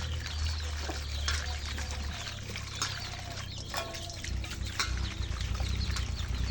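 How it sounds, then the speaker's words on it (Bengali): Dried fish and chillies are rinsed by hand in water, giving intermittent splashing, pouring and trickling sounds over a low background hum, with faint rooster calls and farm-animal noise in the distance. "এখন শুটকিটা ধুয়ে নেই শুটকি মরিচ সব ধুয়ে নেই একদম"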